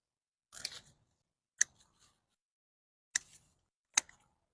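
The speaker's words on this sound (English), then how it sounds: "go back to the main trunk and cut it off" Pruning shears snip through bush branches while a bush is trained into a tree, giving four crisp, close cuts, one longer crunch followed by three sharp single clicks spaced apart, with quiet between them.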